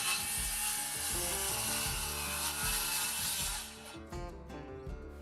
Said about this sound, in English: So to give myself some access with the saw to make a cut